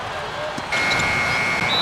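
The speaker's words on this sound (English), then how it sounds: "they turn over the 24-second buzzer, signaling the shot clock violation" In the NBA 2K12 basketball video game, a shot clock violation buzzer sounds as a sustained electronic tone that comes in partway through and holds over the crowd noise of the arena.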